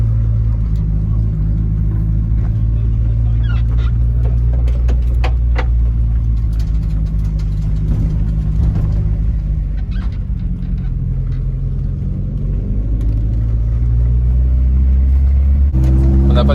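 A modified Peugeot 206 S16 drives on a race circuit, a loud, steady engine drone heard from inside the car with deep rumbling and shifting revs throughout, and a voice talking briefly.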